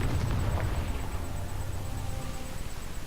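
In a video game, a Confringo blasting spell bursts in a loud, close explosion at the start. A rumbling wash of debris and noise follows and gradually settles.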